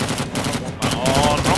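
Rapid automatic gunfire rings out in the Vietnam War shooter Rising Storm 2: Vietnam during urban fighting in Hue City, loud bursts of shots crackling close with echoing reports.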